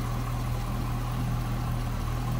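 2012 Chevrolet Corvette Grand Sport's LS3 6.2-liter V8 idling nearby, a steady deep rumbling hum with constant low throb, unbroken and without talk.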